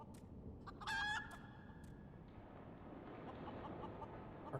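A chicken in Final Fantasy XIV gives a short, sharp clucking call near the start, then fades under a steady low background hum with no voices.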